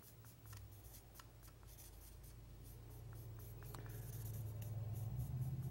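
A permanent marker drawing across the bevel of a steel plane iron, with quiet, rapid scratchy strokes in short bursts against a faint low hum that grows slightly louder.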